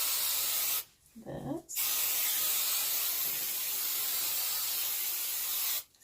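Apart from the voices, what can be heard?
hairspray being sprayed on hair curls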